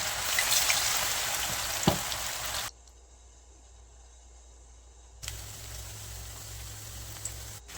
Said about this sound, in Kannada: ಎಣ್ಣೆಯಲ್ಲಿ ಹಾಕಿ ಚೆನ್ನಾಗಿ ಫ್ರೈ ಮಾಡ್ಕೊಳ್ಳೋಣ